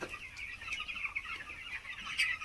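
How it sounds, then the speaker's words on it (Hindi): A flock of broiler chickens on a farm keeps up steady, overlapping clucking and murmuring, with occasional louder calls rising over the continuous din. "ये जो ब्रॉयलर मुर्गियाँ देख रहे हैं जो आपके सामने चल रही हैं"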